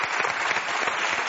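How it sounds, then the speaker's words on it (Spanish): Steady, dense applause from a studio audience at a Spanish television show fills the whole moment, even and sustained without voices standing out. "este aplauso es para ti, de todo el puerto de Santa María y toda Andalucía"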